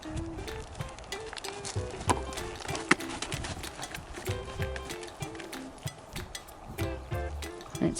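A ridden horse moves over diagonal ground poles in an S-bend schooling exercise, with rhythmic hoofbeats and occasional knocks against the poles, fairly close, amid a bit of background tonal noise.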